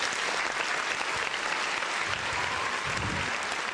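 Dense, continuous applause from a crowd fills the space at an even, fairly loud level from start to finish.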